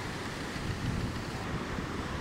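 Fast-flowing water rushing under a village bridge, a dense, steady low roar heard close up with no voices.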